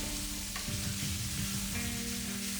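Meat, flour and onions fry in oil in a hot pan with a steady close sizzle and crackle throughout, with occasional brief stirring.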